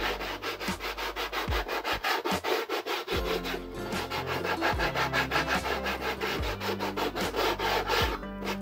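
A sanding block rubs steadily along balsa wood edges on a model airliner's tail, making fast, rhythmic back-and-forth scraping strokes that sound close and continuous.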